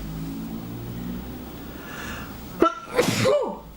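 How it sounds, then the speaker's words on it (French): A single sharp sneeze bursts out near the end after a quiet stretch of background hum, close and loud. "j'ai envie d'éternuer"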